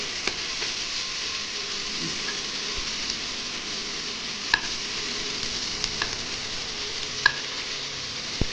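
Carrot, ginger and garlic stir-frying in a hot pan for egg chow mein, giving a steady close sizzle with occasional sharp spatula clicks and no voices.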